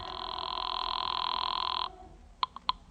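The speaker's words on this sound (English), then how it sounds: "I used the phone to raise the line." A telephone bell rings steadily in one long burst, then gives three short clipped rings, in an old detective radio drama.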